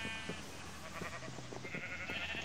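Minecraft sheep bleat faintly in a farm area of the game, a few wavering calls over a low hum with no talk.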